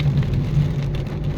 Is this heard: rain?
yes